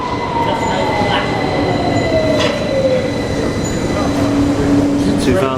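An underground train rumbles steadily at Euston station in London, with high metallic wheel squeals sliding across the loud, continuous roar; no one speaks over it.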